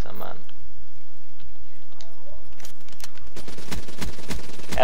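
Rapid automatic fire from an ICR-1 assault rifle in Call of Duty Black Ops 3, a dense burst of shots in the last two seconds after quieter game sounds.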